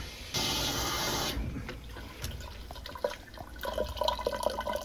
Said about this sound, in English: I'm gonna slightly crack open the hot water valve and flush the PVC with hot steaming water